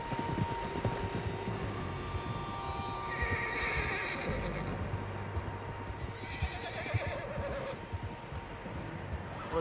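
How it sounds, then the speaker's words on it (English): Horses whinnying and neighing with clip-clopping hooves in the Red Dead Redemption 2 video game, several animals close by amid steady game ambience, with no voices. "Horses, quite a few of them."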